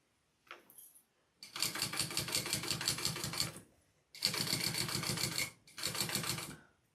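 Sewing machine stitching with the bobbin thread nearly run out, running in three rapid, buzzing bursts of needle strokes with short pauses between them, close and clear.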